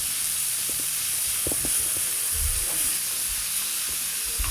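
Shawarma (doner) meat sizzles while frying in a pan, a steady, close hiss with soft low thumps and stirring noises throughout.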